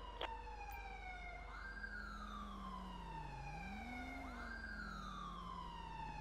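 An ambulance siren in the video game GTA 5 wails in long rising and falling sweeps, steady and fairly faint, with a low engine hum under it and no talking.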